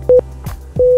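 Morse code tones: two short beeps followed by a longer one, a clear steady pitch sounding in quick succession, separated by faint clicks.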